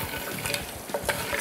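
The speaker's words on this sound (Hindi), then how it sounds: "आप इसको थोड़ा सा ऐसे ऐसे थोड़ा हिलाना है ताकि ताकि वो नहीं, थोड़ा सा जो प्याज हमने डाली ना वो मिक्स हो जाए।" Onions are stirred in a pot for mutton paya, a short burst of frying hiss with a few soft scrapes and clicks of the spoon, close by and without talk.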